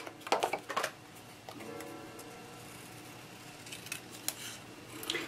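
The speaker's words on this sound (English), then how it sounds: "I'm going to fussy cut it out" Scissors snip out a paper image in close, quiet clicks and cuts, a quick cluster at the start and then sparse snips over a faint background.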